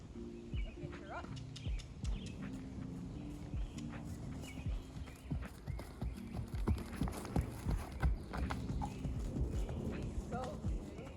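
A rescue horse is ridden, its hooves clip-clopping in a steady rhythm across the ground, with a dog barking at times in the background and a rider talking.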